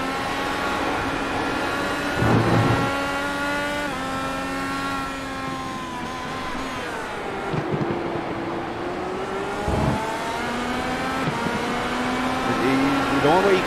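A race car at the Road America circuit lifts off the throttle and coasts before braking, its engine note sagging and shifting pitch over steady roaring engine noise, with a voice talking throughout.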